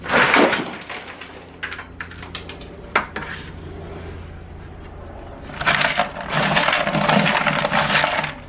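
Brittle car sound-deadening material cracking and crackling as it is removed from a Mazda RX-7 floor, close irregular snaps and crunches with a louder burst of crackling near the end.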